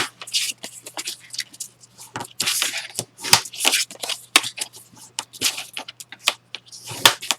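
Paper is creased and folded in a series of quick crisp rustles and sharp creases, close up, with short pauses between.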